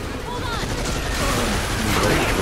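Sustained machine gun fire in the video game Earth Defense Force 5, a dense, continuous rattle of rapid shots running the whole time with battle noise mixed in.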